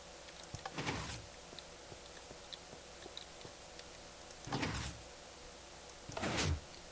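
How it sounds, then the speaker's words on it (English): Minecraft piston door in the video game opening and closing: three brief mechanical whooshing slides, one near the start and two close together near the end, over a quiet background with faint ticking. "I've also built a couple piston door designs."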